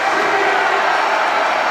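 Loud, dense crowd roar and cheering fills an indoor convention-center arena during an MPBL professional basketball game in the Philippines, sustained and steady for the whole stretch with no pause.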